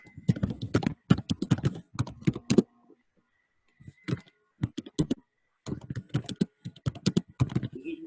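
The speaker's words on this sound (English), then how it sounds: "we can hear him typing" Quick bursts of clacking keystrokes on a computer keyboard, close and crisp, in uneven runs separated by short pauses.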